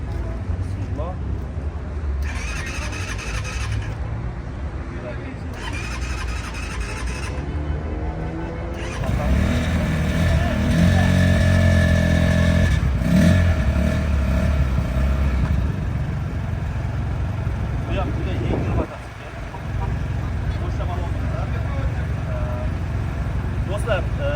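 A motorcycle fitted with a 250cc radiator-cooled engine and 60 mm forks runs close by, its steady mid-pitched engine drone rising louder partway through, with someone talking over it.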